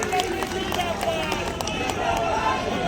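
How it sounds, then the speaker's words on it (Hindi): A large outdoor political rally crowd at Jantar Mantar claps and cheers to welcome Kharge, dense and continuous, with voices mixed in. "आदरणीय खड़गे साहब जोरदार ताली बजा के स्वागत करिए।"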